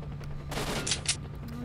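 Pistol gunfire in the video game Stalker: Shadow of Chernobyl, a quick cluster of two or three sharp shots in the middle of a brief moment over a low background hum.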